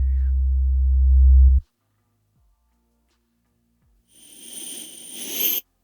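A low rumbling swell cuts off abruptly, then after silence a hissing, airy riser built from pink noise, a low sine and a pitched-up airplane sample, with a high whine, builds and stops sharply.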